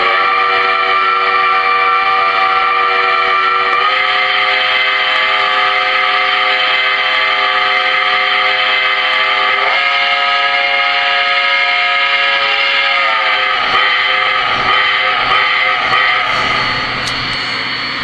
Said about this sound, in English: watch what happens when I blow the whistle on the engine